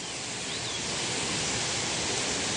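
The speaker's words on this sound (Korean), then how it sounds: "여기가 소정방 폭포라고 하는데요" Sojeongbang waterfall pours with a constant, dense broadband rush, a steady roar of falling water with no breaks over the short stretch.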